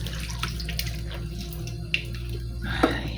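Tap water runs steadily into a sink during washing, a constant low rushing wash with a few faint splashes and a brief clatter near the end, no talking.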